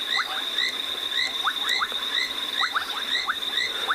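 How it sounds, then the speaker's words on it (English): Frogs calling at night in the wild on a wet African safari, a dense chorus of rapid chirps and repeated whistling notes over a constant high insect-like tone, steady and fairly close. "we've been enjoying the sounds of the frogs here"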